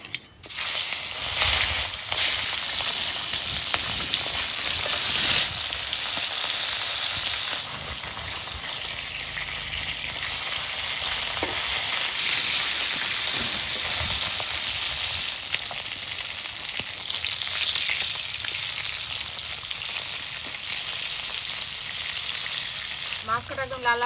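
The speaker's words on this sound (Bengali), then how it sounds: "এবার সর্ষের তেল দিয়ে মাছগুলো ভালো করে ভেজে নিই।" Bhola river fish fry in hot mustard oil in a heated pan, giving a loud, continuous crackling sizzle that holds steady for the whole stretch, with occasional stirring scrapes and no talk.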